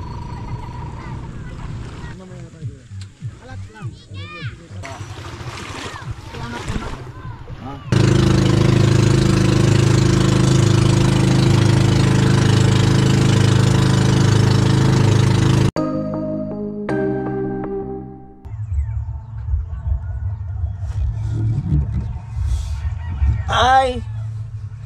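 A boat engine drones steadily and loudly for several seconds at sea, surrounded by wind noise and people talking before and after.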